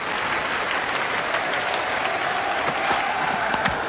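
A cricket crowd at the 1990 Australia vs Pakistan first Test applauds steadily, a dense, even wash of clapping with crowd noise and no clear speech.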